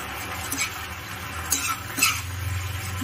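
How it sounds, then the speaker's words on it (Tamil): Ground coconut masala being stirred into kalan in a pot for a Kerala-style Onam sadya, with soft scraping and sloshing strokes at an unhurried pace and a low steady hum underneath, close and fairly quiet. "இதில் நம்ம அரைச்சி வச்சுருக்க தேங்காய் மசாலா ஆட் பண்ணிக்கலாம். ஆட் பண்ணி 1 நிமிஷம் நல்லா கலந்து எடுத்துக்கலாம்."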